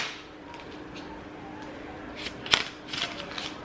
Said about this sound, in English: I'll shuffle it a few more times just so that you guys can see that I am actually shuffling